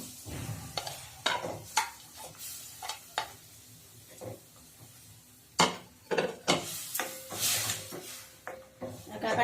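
A pan of jaggery melting into syrup for sesame laddu gets stirred with repeated clanks and scrapes of a utensil against metal over a soft sizzle, in uneven bursts, close and fairly loud.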